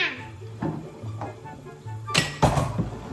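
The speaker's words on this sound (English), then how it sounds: "Are you going to start washing the dishes?" Dishes clink and knock in a kitchen sink during washing, a few scattered light taps followed by two sharper, louder clatters near the end, over a low background hum.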